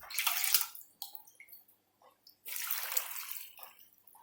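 Water poured to make a salt brine for mustard pickles, splashing in two bursts with small drips and trickles between them, close and fairly quiet.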